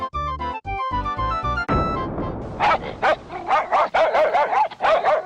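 A dog in an animated Hindi story barks in a rapid run of sharp, yipping barks after a short musical jingle, loud and close, with no talking over it.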